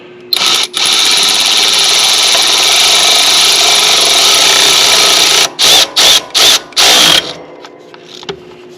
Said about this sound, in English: Now I can take my cordless ratchet,